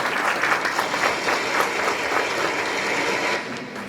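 Crowd applause at a graduation ceremony, a steady dense patter of many hands clapping together that carries on evenly before easing slightly near the end, with no voices over it.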